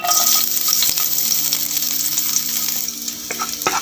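Garlic frying in about two tablespoons of cooking oil in a pan for beef macaroni, giving a loud, continuous crackling sizzle with scattered sharp pops and no talk.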